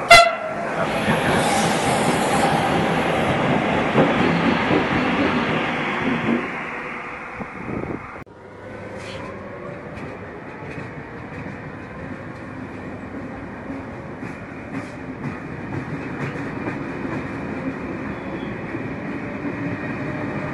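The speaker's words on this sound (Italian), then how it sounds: "Attenzione, treno in transito al binario 11." A train passes through Milan's Lambrate station, a loud continuous roar of rail wagons with a horn near the start, then easing into a lower, steadier rumble as the cars keep rolling by. No one speaks.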